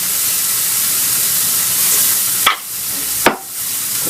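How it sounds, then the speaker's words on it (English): Onions sizzle on a hot grill alongside a nearly finished burger, a steady close hiss broken by two sharp bursts as more pieces land or get moved. "I'm gonna go ahead and grill my onions now"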